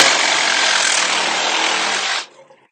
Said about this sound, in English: I like to use a Sawzall.